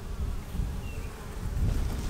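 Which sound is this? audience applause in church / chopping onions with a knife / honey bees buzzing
honey bees buzzing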